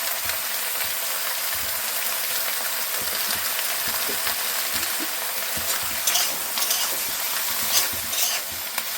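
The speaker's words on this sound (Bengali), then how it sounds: "লবণ হলুদ দিয়ে একটু ভেজে নেব।" Greens sizzling and frying in a pan with salt and turmeric, a steady close crackling hiss with occasional stirring scrapes, no voices.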